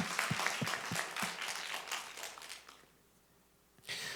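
A church congregation claps during a worship service, a few sharp hand claps standing out over a soft spread of applause that fades to near quiet before a brief burst returns at the end.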